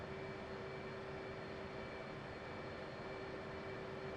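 An F/A-18 Hornet jet taxiing in the DCS flight simulator, a steady, broad engine roar with a constant whine, lasting the whole stretch at moderate loudness, with no voices.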